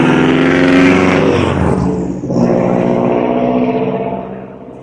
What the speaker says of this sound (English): could your car be any louder?